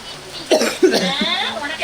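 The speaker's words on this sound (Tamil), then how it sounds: "ரோஸ் மில்க் குடிக்கும் போது இருமல் வருது" Two short, sharp coughs close to the mic while drinking rose milk, followed by a throat-clearing rasp, with no talking.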